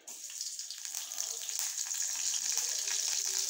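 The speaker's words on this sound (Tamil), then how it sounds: "இப்போ ஃபஸ்ட்டு பட்டையும் கிராம்பும் கருவேப்பிலையும் போட போகிறேன்." Cinnamon, cloves and curry leaves fry in hot oil in a pan, giving a steady, close hiss of sizzling that starts at once and holds without break, with no talking.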